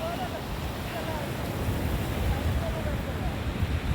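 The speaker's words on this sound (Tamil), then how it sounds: "தண்ணி மேலே மோதுதில்ல" Steady surf and wind-blown ocean noise on the coast near Tiruchendur or Rameshwaram, a broad continuous wash of waves with rumbling wind on the microphone and voices faintly talking underneath.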